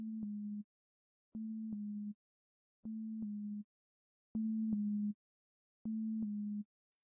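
ZynAddSubFX synthesizer in LMMS sounding a low steady sine-like tone at 128 Hz, played as five even held notes with short gaps, each marked by clicky transients, alone and fairly quiet.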